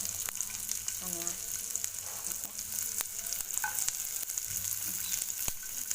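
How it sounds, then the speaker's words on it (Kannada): Chopped onion fries in a pan with a steady, broadband sizzle throughout, punctuated by occasional scraping stirs and light utensil clicks; a voice speaks briefly. "ಆನಿಯನ್ನು ಸ್ವಲ್ಪ ಫ್ರೈ ಆಗಬೇಕು"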